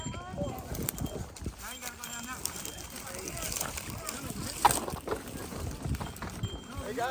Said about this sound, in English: Guys, we got horses coming through.